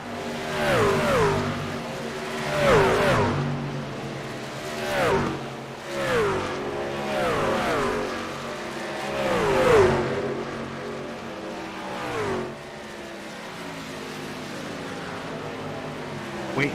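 Race trucks roar around Atlanta Motor Speedway in a sim racing esports event, their engines rising and falling in repeated pass-by sweeps as several trucks scream past one after another, loud and close, with no talk heard.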